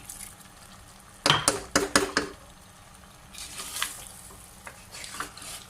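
Potatoes for aloo gosht frying in a pan over slow to medium heat, a close burst of scraping spoon stirs followed by a soft steady sizzle with occasional light clinks, no talking.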